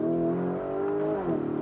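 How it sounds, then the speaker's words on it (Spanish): Lamborghini Urus Performante with its factory Akrapovic exhaust, flat out in third gear from 3,000 rpm: a loud, close engine note climbing steadily in pitch, with a brief shift dip before revving on. "con un sonido del escape que es Akrapovic y que es de serie"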